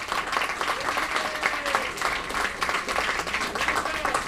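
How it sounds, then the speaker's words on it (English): Audience applause at a Mind Sports Olympiad event, a steady dense patter of clapping filling the room at moderate level with a murmur of voices underneath. "Big round of applause for Agricola."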